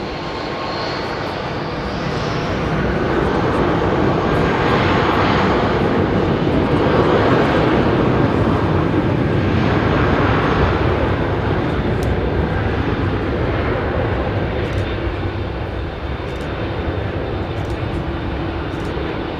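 An Airbus Beluga XL departs Heathrow Airport, its jet engines holding a loud, steady broadband roar throughout, dense and unbroken from start to finish.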